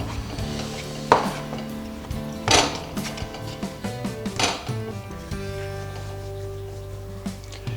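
Soaked samosa dough being mixed by hand in a bowl, with intermittent knocks and clinks against the bowl and a few sharper strikes over a steady background hum.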